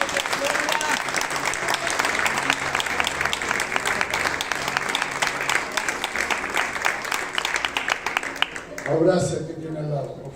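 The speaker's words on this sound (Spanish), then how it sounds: "Dele un aplauso al que tiene al lado." A church congregation claps together in sustained, fairly loud applause, then it fades and a voice speaks near the end.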